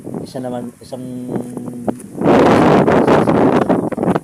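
Strong wind buffets the microphone outdoors in a rice and mung bean farming area of San Mateo, Isabela: a loud, rough roar that surges in after someone speaks briefly and keeps gusting to the end.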